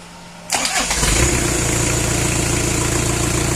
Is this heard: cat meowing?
no